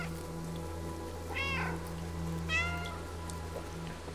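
A cat meows twice in the video game Stray, two clear, drawn-out cries about a second apart over a low steady hum and soft rain-like patter.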